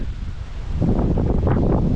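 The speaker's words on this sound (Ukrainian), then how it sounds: "Вітер якісь сумасшедший" Strong wind by a pond roars and buffets the microphone, a rough low rumble that swells louder halfway through and keeps blowing.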